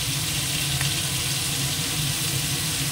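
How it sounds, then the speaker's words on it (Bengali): Prawns with turmeric powder frying in a hot pan, a loud, steady close sizzle that holds without pause. "চিংড়ি মাছটাকে একটুখানি আগে ভেজে নেবো।"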